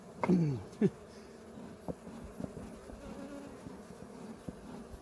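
Agitated honeybees buzzing in a low, steady drone during a hive inspection, with a couple of louder close buzzes or bumps near the start and soft knocks afterward.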